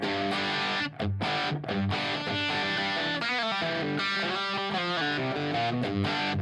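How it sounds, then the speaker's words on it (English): Electric guitar played through booster and compressor pedals rings out with a thick, sustained, slightly driven tone, chords and notes blending continuously and loudly with no voices. "That's just with the booster and the compressor on."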